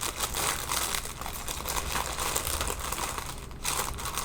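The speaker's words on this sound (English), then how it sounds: "Sorry for the crinkling." Plastic bag crinkled steadily and close by, rustling dense and continuous for several seconds with no talk, while stitching linen is handled during a cross-stitch session.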